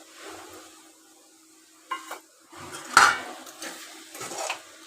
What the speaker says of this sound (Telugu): వేసేసి ఇలా కలుపుకొని ఈ బొమ్మిడీలు గోంగూర